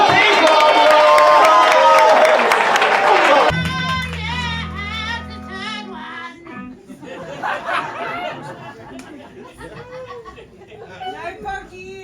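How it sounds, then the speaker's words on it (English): Comedy roast battle crowd reacting: a loud burst of cheering and clapping opens, then cuts to murmuring chatter and scattered laughter with music-like tones underneath. "round of applause for Cody."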